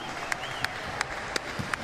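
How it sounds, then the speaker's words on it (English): Crowd applause in an arena during a sitting volleyball match, a steady wash of clapping with a few sharp regular claps standing out, with a voice mixed in. "Oh, is that applause for Axel?"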